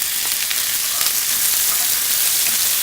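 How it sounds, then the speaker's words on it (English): Minced garlic and shallot fry in hot oil in a pan, browning with a steady, loud, hissing sizzle that runs unbroken throughout, with no talking. "about 2 cloves of garlic and 1 shallot that's been minced, and it's starting to brown."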